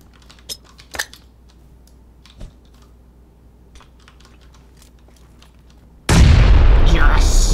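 Grenade explosion in a first-person shooter game, a sudden loud, sustained boom near the end that follows several seconds of sparse keyboard typing and clicks.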